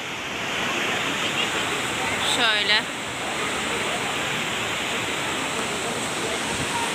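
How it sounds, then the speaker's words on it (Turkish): Waterfall pouring at a crowded outdoor spot during a horseback riding outing, a loud continuous broadband rush filling the scene, with a brief spoken word and a short whistle-like chirp partway through. "Şuradan akıyor şelale."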